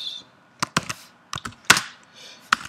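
Keystrokes on a computer keyboard while typing code, a handful of separate sharp clicks and clatters spaced irregularly, close and moderately loud with quiet gaps between.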